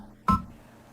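An embroidery machine gives a single short electronic beep, loud and alone, as it steps backward through its stitches during a Kimberbell Candy Corn quilt project.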